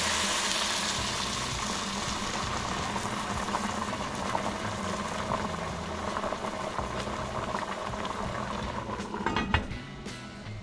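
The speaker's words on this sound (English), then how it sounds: "We'll let that simmer for a bit." Carrot soup with stock simmering in a pot, a steady bubbling and sizzling wash that holds even throughout, with a few light clinks of utensils near the end.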